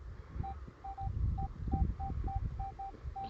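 A metal detector sweeps over a buried thimble and gives about ten short, even beeps in a loose rhythm, with rustling and soft low noise underneath.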